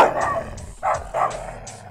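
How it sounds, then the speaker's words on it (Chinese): A neighbor's small dog barks at a passing Caucasian shepherd dog, giving three or four sharp, high-pitched, strained yips close by in quick succession. "对面可能是太害怕了，所以从高加索犬经过开始就忍不住吠叫，声音听起来又高亢又凄惨"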